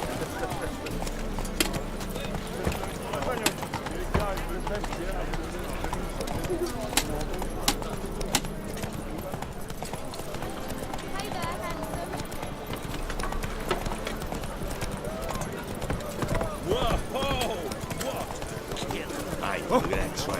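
Horse hooves clip-clop in a steady galloping rhythm in The Witcher 3, set under a continuous bed of game music and ambience, with a voice speaking over it.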